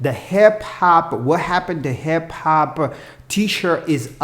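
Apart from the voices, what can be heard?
No everyday noise stands out behind the speech.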